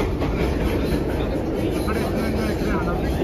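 A New York subway R142A train runs on the 6 line near Brooklyn Bridge–City Hall, giving a steady, loud rumble and rattle throughout, with voices mixed into the noise.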